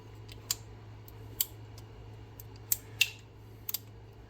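A strip of tape is handled to hold the locking bar of a rifle trigger forward while comparing Rare Breed and Delta Team Tactical triggers, giving a few sharp, faint crackles and clicks spaced irregularly over a quiet hum.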